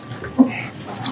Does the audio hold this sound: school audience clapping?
no